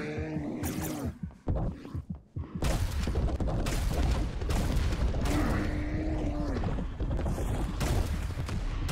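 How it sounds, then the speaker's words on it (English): A rocket launcher fires repeatedly in the Serious Sam 4 video game: a run of loud, punchy blasts, each followed by a rumbling explosion, coming about once a second over dense game noise with a brief quiet gap early on. "This is actually the first time I've used a rocket launcher."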